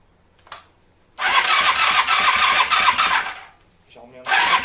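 An engine cranks and catches after carburettor work, roaring loud and steady for a couple of seconds, dropping away briefly, then firing up again near the end.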